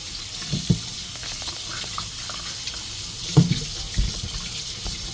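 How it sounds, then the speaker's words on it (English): Fruit and ginger rinsed under a running kitchen tap, a continuous close hiss of flowing water with a few soft knocks and splashes as the produce is handled. "So I'm gonna wash these, clean up my ginger."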